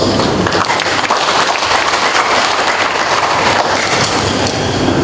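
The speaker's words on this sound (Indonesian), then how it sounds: "aplaus." Applause from the hall during a regional legislative council plenary session in West Papua, a dense, steady wash of clapping from a sizeable audience that holds at full loudness for about five seconds, with no voices over it.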